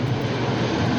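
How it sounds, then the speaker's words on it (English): An airplane passes overhead as a steady, loud, broadband engine roar that fills the whole second without any break. "Airplane."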